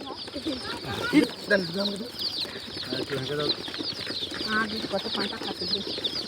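Layer hens cluck and squawk close by in short, busy bursts, with some wing flapping among the calls. There is no clear talk over the flock.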